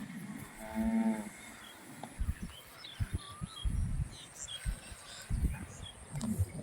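A cow gives one clear, close moo near the start, followed by rustling, shuffling farmyard noise and faint bird chirps in the background.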